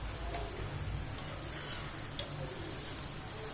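Medu vada frying in hot oil in a home kitchen, a steady close sizzle and crackle running throughout with a few soft clicks of a utensil against the pan.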